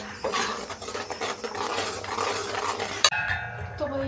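Ginger, garlic, onion and tomato paste cooking in a pan, stirred with a utensil that scrapes and clinks against the metal in a continuous busy rhythm, close by, with a sharp knock near the end.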